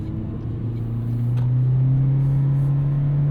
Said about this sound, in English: You do have to suffer a bit through that 2-liter straining itself